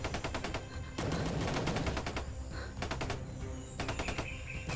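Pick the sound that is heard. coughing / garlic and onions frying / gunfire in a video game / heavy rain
gunfire in a video game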